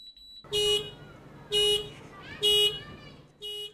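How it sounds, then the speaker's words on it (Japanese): A kindergarten bus's left-behind-child warning horn in Hakodate, Hokkaido, sounding after the engine is off, blares in four evenly spaced, loud tonal bursts with short pauses between them, over a low background hum. "5分後に大きなクラクションが鳴り周囲に異常を知らせる仕組みです"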